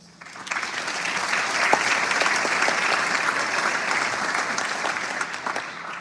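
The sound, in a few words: students applauding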